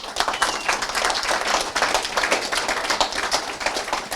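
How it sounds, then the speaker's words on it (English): A group at a real estate partnering event claps for themselves, with bright, busy clapping that rises and falls in uneven bursts and holds fairly close and loud throughout. "Give yourselves a round of applause"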